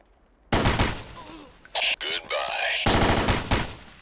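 Rapid automatic gunfire in Ghost Recon: Island Thunder, loud close bursts of fire with short gaps, then a second sustained volley.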